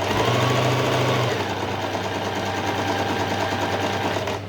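Sewing machine stitching a heavy blouse hanging runs steadily and close up with a continuous loud motor whir and rapid needle clatter, a brighter hum in the first second before settling into an even drone, with no voices.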